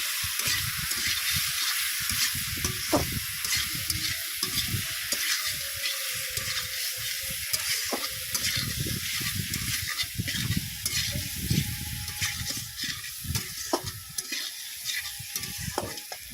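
Spiced potatoes frying in a pan while being stirred, a continuous close sizzle with repeated scraping and clinking strokes from the stirring utensil, steady and moderately quiet, no voices.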